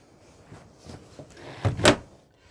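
A door on a 2009 Bailey Ranger 460/4 caravan opens with a couple of soft clunks and a sharper latch-and-swing thump near the end, close by with no talk.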